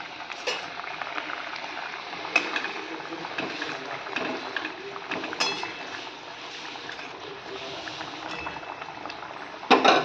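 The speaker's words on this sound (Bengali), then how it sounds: "ঝোলটা আমার ফুটে গেছে" Fish curry with fish roe bubbles in a pot in a steady, close boil for about ten seconds, with a few metallic clinks scattered through and a louder clatter near the end.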